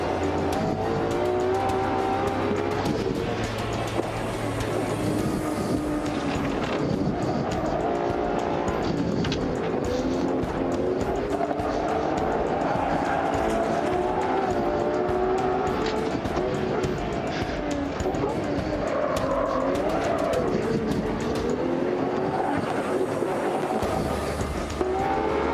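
A new limited-edition Ferrari V12 car driving at the Fiorano track, engine roaring continuously and loudly for the whole stretch, its pitch rising and falling through gear shifts.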